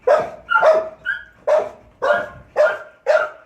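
Several dogs bark in a quick run of about seven sharp, loud barks close by, with no talking.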